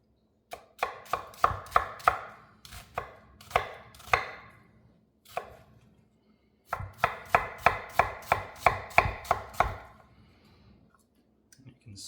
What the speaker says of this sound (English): going through those diagonal slices, and that way they kind of break off into nice little chunks like we want